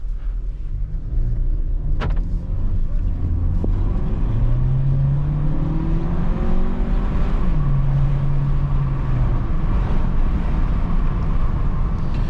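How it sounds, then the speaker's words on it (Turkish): A Volkswagen T-Roc engine hums steadily while driving through water, with a low rumble and gear changes shifting the pitch up and down. "Biraz hem motor sesi duymuş olun"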